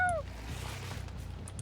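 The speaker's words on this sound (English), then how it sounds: "I hear a cat." A single short meow from a cat in a video game sounds clearly at the very start, then gives way to a faint, steady low hum of background game ambience.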